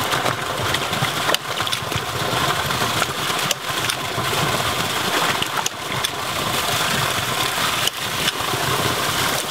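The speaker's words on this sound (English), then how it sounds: "I have the pump running, and it's on a bigger nozzle." A ram pump for a micro hydro setup runs with a continuous broadband rushing drone, rhythmically interrupted by periodic thumping knocks every second or two.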